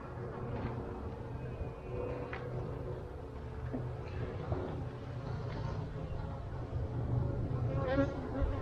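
Honeybees hum steadily at an open hive during an inspection after merging colonies, a continuous close drone with a few louder buzzes as individual bees pass near, and no talk over it.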